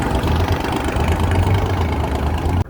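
The engine of a large, comfortable passenger boat drones through a sea crossing to Nainativu island. It is a loud, steady, close-up hum with a low throb, cut off abruptly at the end, with no voices.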